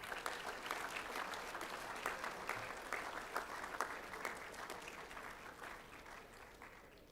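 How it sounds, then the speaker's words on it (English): Steady applause from a school assembly crowd, a continuous patter of clapping that slowly fades toward the end. "Please give a round of applause for our under 12 men."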